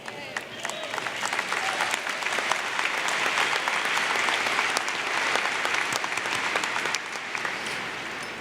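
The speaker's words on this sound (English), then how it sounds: "We will applaud them as a group as well" Sustained applause from a large audience at a spring college commencement fills the hall, dense clapping holding steady at full strength and easing slightly at the end.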